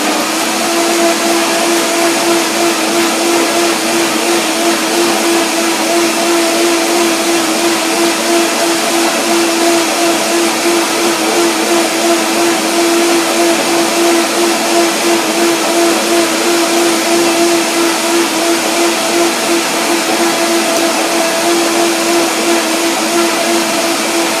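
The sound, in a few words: blender blending vegan zucchini Alfredo dressing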